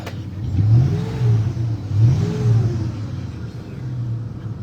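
A truck engine idles with a low rumble and is revved a few times in slow swells, close by, with faint background noise.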